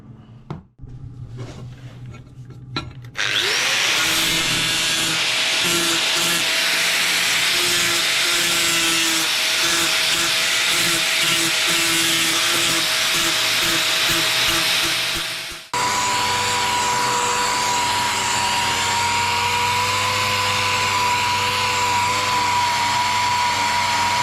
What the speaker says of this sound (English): I'll just quickly weld them up